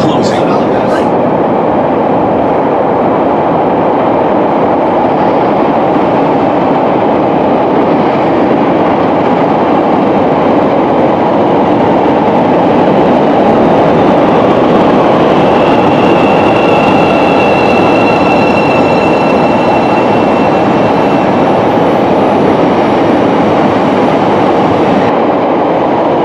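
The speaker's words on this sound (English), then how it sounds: "This is a red line train to 95th." A Chicago CTA Red Line subway train bound for 95th roars loudly and continuously along the tracks, with a dense rumble and a high whine that rises partway through.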